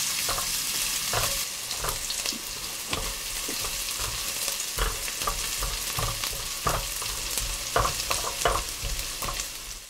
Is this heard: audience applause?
no